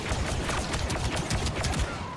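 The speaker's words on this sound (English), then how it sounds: "I just start shooting them." Dense blaster fire in a Star Wars Battlefront 2 battle, many overlapping shots in a continuous busy clatter at moderate level throughout, no voices.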